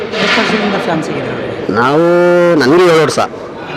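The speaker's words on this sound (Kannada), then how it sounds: "ನಮ್ಮ ಗೂಳಿ ಮದಕರಿ ಬರಲ್ಲ ನೋಡಿ." A bull moos loudly and close, a long low drawn-out call with a rising second moo, following a stretch of background voices.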